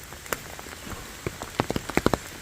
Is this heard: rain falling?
yes